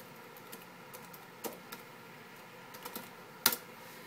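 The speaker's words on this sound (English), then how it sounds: "I can't talk and type at the same time." Keys clack on an HP Pavilion DV4 laptop keyboard in short irregular taps, close and fairly quiet, ending with one sharper, louder keystroke; no speech.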